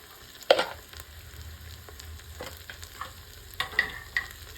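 Spices fry in a pan for masale bhat, a soft steady sizzle with a few sharp scrapes and taps of a spoon stirring, fairly quiet and close.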